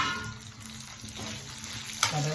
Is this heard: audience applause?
no